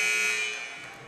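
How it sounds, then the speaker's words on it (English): A long electronic buzzer sounds in a gym during an NAIA men's college basketball game, loud and steady before slowly tapering off, with no talk over it. "The buzzer you hear means both teams making their way back out."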